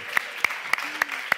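Five sharp, evenly spaced handclaps from an audience on a Catalan entertainment show, close and crisp with steady rhythm and little else underneath.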